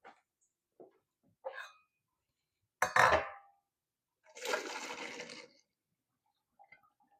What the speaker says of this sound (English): I'll drain the pasta and get that